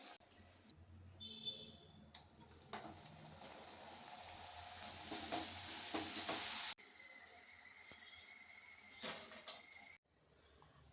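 Namakpara, also called diamond chips, frying in hot oil with a steady, fairly loud sizzle that swells toward the middle, broken by occasional scraping and stirring clatter.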